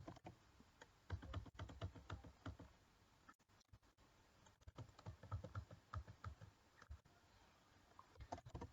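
Rapid typing on a computer keyboard while writing Python code, a close, soft patter of key clicks in uneven bursts with a brief pause in the middle.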